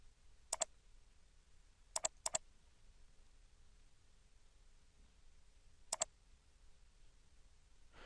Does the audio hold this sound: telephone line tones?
no